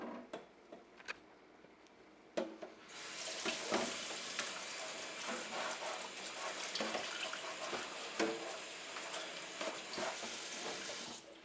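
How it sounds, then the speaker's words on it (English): Water runs steadily from a tap as a humidifier reservoir is rinsed in soapy water, a continuous close splashing wash with a few sharp knocks of plastic against the sink. "Move our bleach soaking reservoir into the soapy water. Put this one over here and just rinse it."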